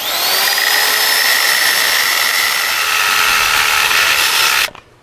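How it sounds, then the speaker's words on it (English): A power drill whines steadily as it bores a hole for a wood-burning stove installation for several seconds, loud and close, then stops abruptly. "Okay, go ahead, drill away."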